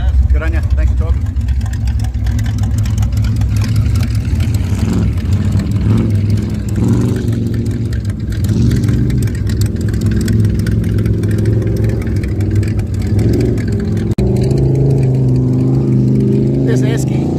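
A Chev small block V8 in an Esky car at a muddy motorsport event idles loud and steady with occasional revs, while people talk over the engine.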